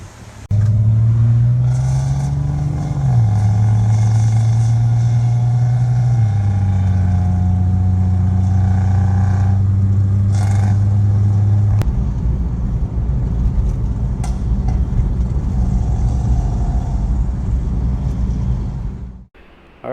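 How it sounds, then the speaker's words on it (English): A 2002 Honda Civic Coupe with a D17 engine idles loud and close with a steady low drone. Its pitch steps up and down slightly as the revs shift, and the running engine continues on its own without speech. "here it is, the 2002 Honda Civic Coupe. Has the D17 in it"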